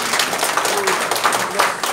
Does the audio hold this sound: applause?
yes